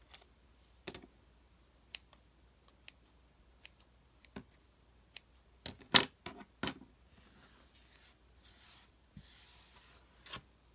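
Scissors trim paper ephemera with faint, sparse snips and clicks, spaced irregularly over a quiet background, plus a few light rustles of paper being handled.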